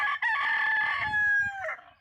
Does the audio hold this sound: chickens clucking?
yes